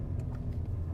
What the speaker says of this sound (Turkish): Bak şimdi hemen motor sesi gelecek abi.